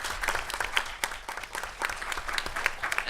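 Applause for a college president at an evening teach-in, with bursts of clapping of moderate loudness across the whole span and no talk over it.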